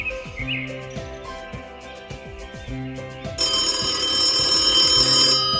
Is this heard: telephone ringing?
yes